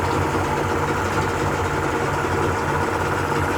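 A Yamaha 50H outboard motor, running without a thermostat, idles with a steady, continuous low mechanical drone and vibration, close by and alone, with no voices.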